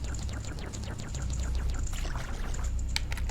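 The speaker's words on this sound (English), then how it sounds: "I'm hearing more of that splashing" Water splashes and sloshes in quick repeated bursts at moderate distance in The Legend of Zelda: Majora's Mask, with a brief brighter splash near the end, no one speaking.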